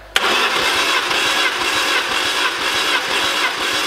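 A car engine cranks and catches right after a sharp click, then settles into a loud, steady running rumble with a faint rattle, close by and with no talk over it.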